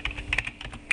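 Rapid typing on a computer keyboard, a close, crisp run of separate key clicks in an uneven rhythm with a few louder strikes, entering a ping command in Command Prompt, with no talking.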